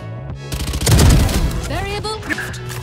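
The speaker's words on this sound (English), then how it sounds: "Bomb grenade out." Bomb grenade detonating in a Valorant match: a heavy burst with rattling debris peaks about a second in, followed by shorter sharp game effects, loud and close.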